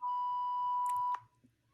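A steady, loud electronic censor beep holds a single pure tone for just over a second, then cuts off abruptly, leaving faint background murmur.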